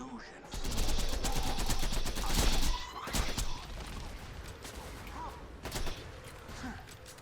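Gunfire in the video game Borderlands 2 during a Terramorphous raid boss fight, with bursts of loud shots and crashing impacts over about seven seconds, some sharp single cracks, and someone talking at times.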